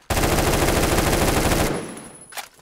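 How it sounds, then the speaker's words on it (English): Rapid automatic gunfire from a rifle in the Roblox shooter Phantom Forces, a loud, close burst of quick rattling shots lasting over a second, then a short trailing echo and a faint clatter. "Oh, though gun sound is kind of satisfying."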